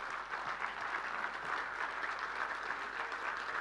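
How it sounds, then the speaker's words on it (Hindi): An audience applauding at a public address in Dhar. Many hands clap in a dense, steady wave of applause that stays even and fairly loud throughout, with no speech over it. "जोर से बजाइए ताली"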